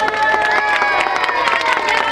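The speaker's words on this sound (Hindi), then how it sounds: "जोरदार तालियां।" Loud crowd applause and cheering at the 2011 Mahapanchayat gathering, dense and continuous, with shouts and voices mixed into the clapping.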